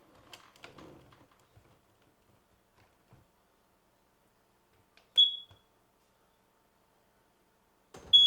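Near silence, then two short, sharp electronic chirps a few seconds apart from a wired Kidde smoke detector, high-pitched and brief, with faint rustling at the start.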